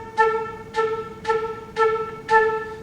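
Five short flute staccato notes, each clipped off sharply by the tongue so it ends abruptly, evenly spaced at about half-second intervals, played alone and close.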